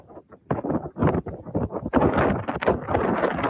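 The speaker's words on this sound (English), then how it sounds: "Oh, so windy." Strong gusty wind buffets the microphone in loud, choppy bursts, rough and close throughout.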